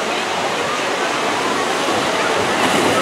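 Water rushing and splashing at a water slide pool in an outdoor water park, a steady broadband wash of water, loud and continuous with no break.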